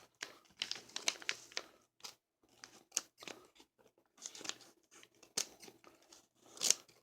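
Scissors snip through a magazine's sticky plastic wrapping with quick crisp cuts and crinkling, close and quiet, in short bursts with pauses between.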